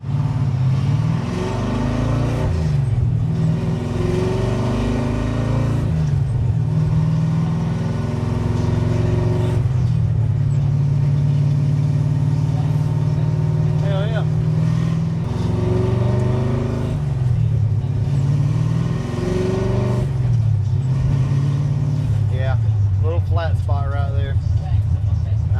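A car engine fitted with a newly converted carburetor hums and revs through repeated rises and falls while driving, loud and close, with someone talking over it at times.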